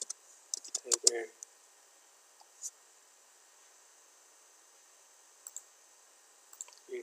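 Computer keyboard keys are typed in a quick burst of close, crisp clicks, followed by a few isolated key taps scattered across the rest of the stretch against a quiet background.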